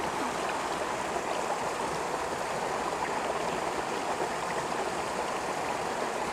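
A waterfall's cascade rushes steadily and loudly all around, a dense unbroken roar of falling water heard from the middle of the falls.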